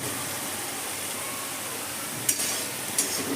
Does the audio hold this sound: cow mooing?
no